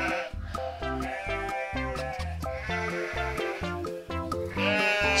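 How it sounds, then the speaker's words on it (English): Sheep bleating in a series of wavering, tonal calls over a patterned musical backing, moderately loud and continuous. "Sheep love to graze on the grassy fields."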